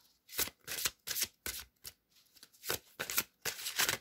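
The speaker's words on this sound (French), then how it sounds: "On va prendre une deuxième carte, hein, juste uno, s'il vous plaît." Cards are drawn and handled from a deck in a series of quick, papery riffles and snaps, close and fairly quiet, with short pauses between bursts.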